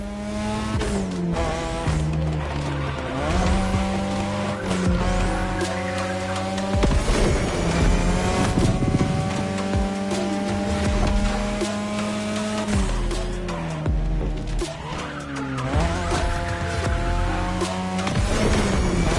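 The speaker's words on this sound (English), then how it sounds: "Tonight your ride is a 3rd Gen 2002 Mazda RX-7. Lightweight, compact, a sick rotary engine" A 3rd-generation 2002 Mazda RX-7 with a rotary engine in The Crew Motorfest, its engine buzzing and revving steadily through gear changes as tires squeal and skid, loud and continuous with no talk.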